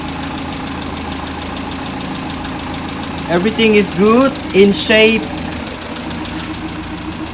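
A Toyota Publica KP30 with its factory 2K engine idles steadily in a low, continuous rumble while someone speaks briefly over it.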